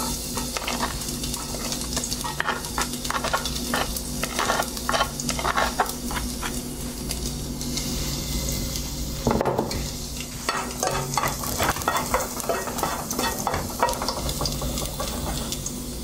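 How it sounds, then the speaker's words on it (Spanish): Garlic frying in oil in a pan, a steady close-up sizzle with the scrape and tap of stirring over it and an occasional clink of cookware, no voice. "Empezamos por poner un chorrititín de aceite, ahí está, y empezamos con el ajo."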